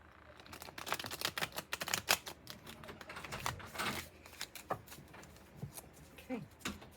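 Stiff playing cards are shuffled and handled up close, a quiet run of rapid riffling flutters and crisp snaps, with a faint voice mixed in.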